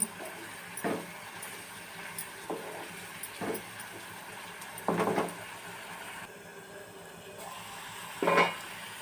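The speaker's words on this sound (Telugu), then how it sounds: "ఒకసారి కలుపుతున్నాను" Onion curry cooking in a pan, with a soft low sizzle and a handful of distinct scraping stir strokes at irregular intervals, a couple louder near the middle and end.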